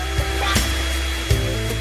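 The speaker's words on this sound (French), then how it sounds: "j'ai besoin d'un sèche-cheveux pour me réchauffer" A hair dryer blows with a steady, loud rush of air and a low hum, with a few soft knocks and rubbing sounds on top. Nobody speaks.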